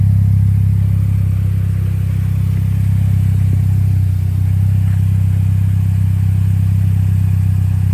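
A Mini Cooper engine idles steadily with a loud, even low hum while the car is put into gear and moved forwards and backwards, a constant close drone without revving peaks.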